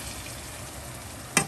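Steak fries over high heat in butter in a frying pan, giving a steady, close sizzle with one sharp click near the end.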